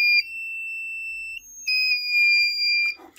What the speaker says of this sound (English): we've got a loud buzzer